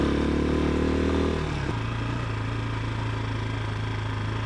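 Engine of a CSC TT250 motorcycle running steadily while riding on a rough road, a fuller revving drone for the first second or so, then dropping to a lower, even hum that continues to the end.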